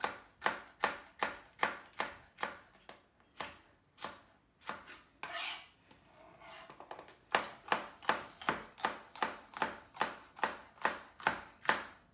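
A knife chops a pepper into strips on a cutting board in a steady, fast rhythm of crisp knocks, pausing briefly midway before resuming, close and clear with no voices.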